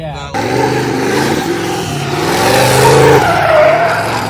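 A BMW E36 M3 skids through a street drift, tires squealing loudly and continuously over the revving engine, with voices talking over it from inside the car.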